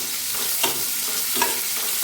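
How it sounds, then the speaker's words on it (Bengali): Thinly sliced onions dropped into hot oil for a chicken curry, a steady close sizzle with a few stirring scrapes. "আমি তাতে ঝিরিঝিরি করে কাটা পেঁয়াজগুলো দিয়ে দিচ্ছি।"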